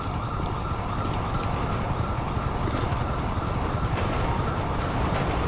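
Ambulance siren in the GTA 5 video game, a steady wailing tone heard continuously over a dense, loud game soundscape with engine and traffic noise, no talking.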